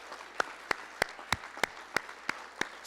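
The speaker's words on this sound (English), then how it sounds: "Another round of applause for our title sponsor," Applause for sponsors at a university athletics hall of fame induction ceremony, heard as a slow run of about nine separate, evenly spaced claps that ring out against a quiet, reverberant room.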